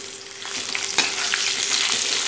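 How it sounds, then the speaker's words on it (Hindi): Red chili, green chili and onion fry in a pan for dahi tadka rice, giving a steady close sizzle with the scrape of a stirring spoon and a sharp clatter near the middle. "अब इसके अंदर हम ये लाल मिर्च, हरी मिर्च और प्याज को डाल देंगे और इनको भी डाल के अच्छी तरह से भूनेंगे"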